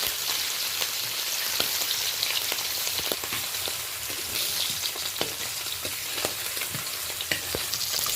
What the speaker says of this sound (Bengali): ইলিশ মাছটা আমি খুবই হালকা করে ভেজে নেব, একেবারে হালকা করে ভেজে নেব।